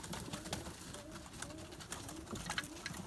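Pigeons in a coop coo softly and repeatedly amid a busy background of fluttering and rustling, with several birds calling close by.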